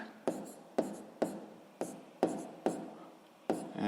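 Pen strokes on paper while a fraction is written during a sixth-grade math exercise, in a series of about eight sharp, evenly spaced scratches, each fading quickly.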